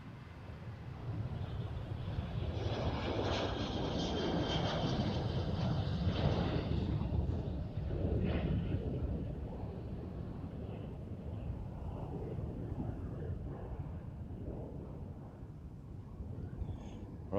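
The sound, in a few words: Boeing 737 airliner passing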